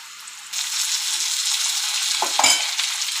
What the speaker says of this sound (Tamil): வெங்காயம் தக்காளியை வதக்கிட்டு அரைக்க போகிறேன் இந்த அளவு வதங்கிடுச்சு தக்காளி ஆட் பண்ண போகிறேன்